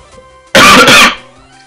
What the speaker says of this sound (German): Da muss ich ja glatt husten.